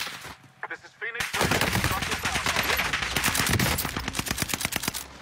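Video game gunfire erupts after a brief quieter start into dense, rapid automatic bursts and overlapping shots, loud and sustained for several seconds.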